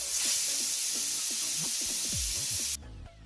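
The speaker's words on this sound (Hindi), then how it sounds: "कुकर का ढक्कन बंद करें और मीडियम फ्लेम पे हमें 1 विसिल आने तक कुक" A pressure cooker on a medium flame lets out its whistle as a loud, continuous rush of steam hiss, close and steady, which cuts off abruptly near the end.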